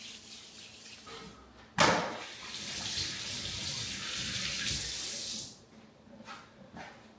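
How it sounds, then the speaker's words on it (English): Water runs from a kitchen or bathroom tap while hands are washed, a steady close rushing stream starting abruptly with a splash and lasting about four seconds before shutting off, with no talking. "Now what I'm going to do is I just have to first off wash my hands"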